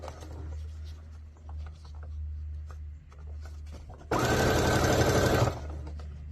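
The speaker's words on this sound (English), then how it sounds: "And just sew straight down." A sewing machine runs a straight seam down a ditty bag, catching the serged edges: one loud, steady whirring burst of just over a second, close by, following quieter handling noises.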